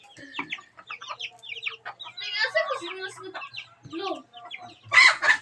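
A chicken clucks repeatedly at close range, with short choppy calls and a louder squawk near the end, some voices mixed in.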